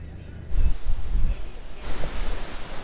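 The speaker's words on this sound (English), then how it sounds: "I don't know if you can hear me because it's so windy" Strong wind roars and buffets close to the microphone in the mountain village of Apeiranthos on Naxos, Greece, a steady rumbling rush that swells and surges without letting up.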